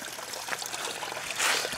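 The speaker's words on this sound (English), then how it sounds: "so here's the waterfall, really nice" A small waterfall spills into a mini golf course pond stocked with fish, giving a close, continuous trickling splash that swells slightly toward the end, with no talking.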